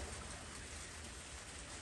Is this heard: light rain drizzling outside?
yes